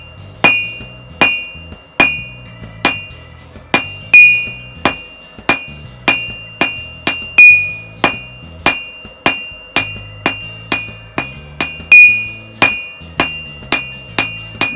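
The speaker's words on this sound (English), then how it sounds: "I'm now forging the tip to almost the desired dimensions" Hand hammer forging the tip of a steel nose punch on an anvil: sharp, ringing metallic strikes repeat in a steady rhythm of about two per second, loud and close, with brief pauses between groups of blows.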